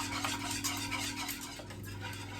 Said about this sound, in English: we're going to grab a whisk and 4 whole eggs and we're going to whisk that into our sugar mixture